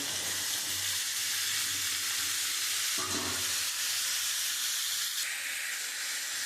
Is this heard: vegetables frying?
yes